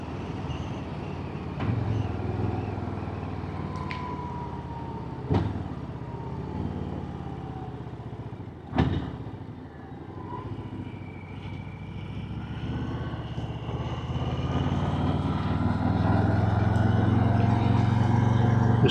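A 2023 Harley-Davidson Street Bob motorcycle on a demo ride, its engine droning and rumbling steadily with wind noise, a couple of brief bumps, and the tone rising and swelling louder toward the end as it accelerates.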